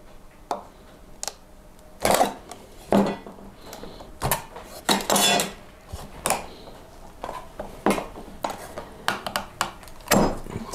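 Sharp plastic clicks and clacks sound close by as clamps come off a silicone resin-casting mould and its side parts are pulled away, in scattered knocks with uneven gaps, no voices.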